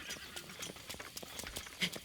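Horse hooves clatter in a quick, steady galloping rhythm in the Zelda: Breath of the Wild video game during rain, a run of sharp repeated beats at moderate level with no talk.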